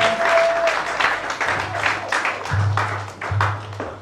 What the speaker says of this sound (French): Est-ce qu'on peut acclamer pour la gloire de notre Seigneur Jésus-Christ?